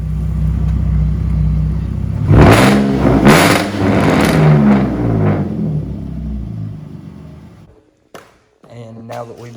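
Supercharged Jaguar XE 35T R-Sport driving, with a steady engine drone and a louder burst of revving in the middle, then a brief drop to near silence before the engine hum returns.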